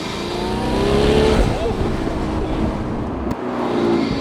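A turbocharged sports car engine roars steadily and loudly throughout, with a rising whine near the start and a brief dip in the drone late on.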